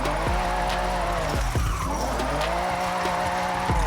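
A car in a racing video game drives hard with a steady engine drone, with tire skids and squeals breaking in around the middle and near the end.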